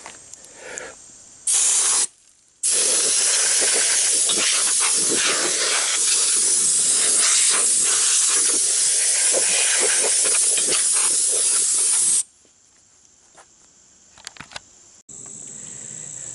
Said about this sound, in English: So we have the old air gun out.